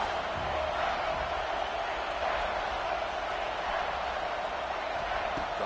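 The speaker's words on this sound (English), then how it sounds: "And here comes the noise. This crowd is trying to inspire this defense to make a big red zone stop." Stadium crowd roar in a football video game as the home fans try to lift their defense for a red zone stop: a dense, steady wall of cheering and shouting that holds loud and unbroken throughout.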